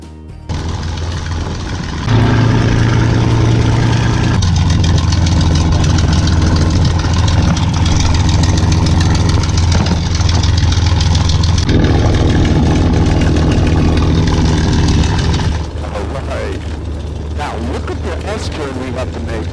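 A P-51D Mustang piston engine idling just after start, a loud, deep, steady rumble that rises partway through, then quiets toward the end, with people talking over it.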